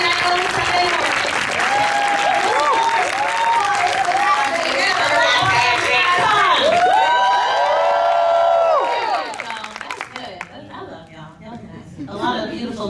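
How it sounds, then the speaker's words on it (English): Audience applause at a DreamCon panel, loud and steady with cheering, whoops and sung or shouted voices mixed in, then thinning into scattered claps under chatter. "we want to give yourselves a round of applause for playing the game with us"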